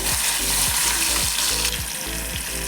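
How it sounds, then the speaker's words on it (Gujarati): Tomato pieces and curry leaves sizzle steadily in hot oil, the frying hiss continuous, with a soft stirring scrape coming back roughly every half second, close and fairly loud, no voices. "અહીંયા એક નાનું ટામેટું એડ કર્યું એને આપણે થોડું સાતરી લઈશું"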